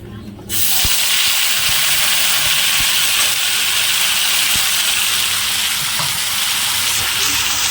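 Spice paste dropped into hot oil with fried whole cumin bursts into a loud, sudden sizzle that settles into a continuous hiss and steam for several seconds, close and alone.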